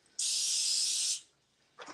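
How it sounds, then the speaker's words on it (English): Cooking spray hisses from a big can in one steady, close burst of about a second onto a frozen pizza headed for the air fryer, then a brief second short spritz. "you spray it with the cooking spray"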